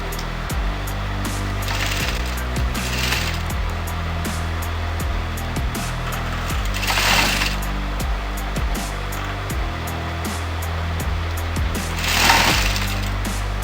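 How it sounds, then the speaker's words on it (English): A sewing machine runs steadily through pink fabric while blouse pieces are stitched, a continuous mechanical hum with rhythmic needle clatter and a few louder bursts of speed near the start, middle and end. "When you get into this pink color fabric, chain the thread and then start sewing."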